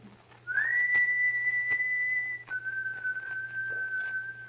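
A single long whistled note slides up and holds steady, then drops slightly to a second sustained tone, over a low hum with faint knocks.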